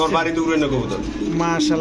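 Pigeons coo softly and repeatedly close by, mixed with a person speaking over the birds throughout.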